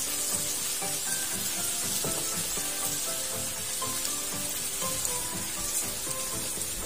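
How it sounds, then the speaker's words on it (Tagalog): Washed rice goes into a hot pot for one-pot sesame oil chicken rice, a steady, rain-like sizzle and crackle running throughout, with faint background music underneath. "isunod na din natin yung ating nahugasang bigas"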